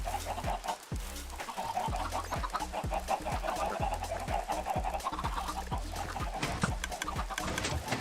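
A dense stream of Minecraft chicken clucks keeps coming for several seconds, many short calls overlapping in a rapid, steady patter as if from a crowd of game birds close by, with no talk.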